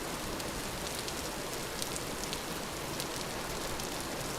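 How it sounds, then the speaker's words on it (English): Rain falls steadily outdoors, a constant broadband hiss of drops on surfaces with occasional crisper patters, loud and uniform from start to finish. "Since it's raining, it's cooling down a bit faster."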